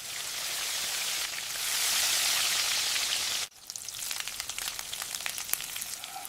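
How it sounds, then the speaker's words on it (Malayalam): Fish sizzles steadily in hot oil in a pan for fish pickle, then a sharp drop leads into a busier spatter of crackles and pops, close and moderately loud with no talk. "ഇപ്പോൾ മീൻ നന്നായി വറുത്തെടുക്കാം."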